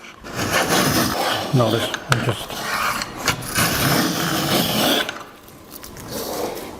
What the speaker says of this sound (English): it should start taking shavings again